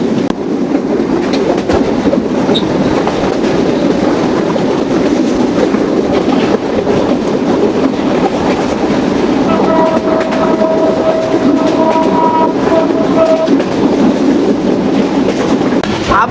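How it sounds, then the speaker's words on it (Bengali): Heard from aboard the broad-gauge Rupsha Express running at 80–90 km/h through green countryside in Jhenaidah, a loud, steady rumble with rhythmic clickety-clack of wheels on rails continues throughout, and faint tonal whines surface midway. "আবারও রূপসা এক্সপ্রেস ট্রেনের গতি উঠে গেল ঘন্টায় 80, 85 বা 90।"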